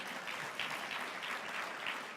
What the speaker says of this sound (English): Let's give Dr. Mayor another round of applause.